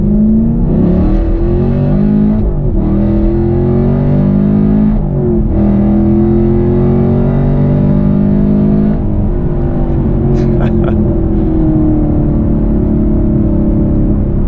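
A Chevrolet Camaro SS engine revs hard under acceleration, climbing in pitch through several gear changes with brief dips between them, loud and close as though heard from inside the car, with no talking.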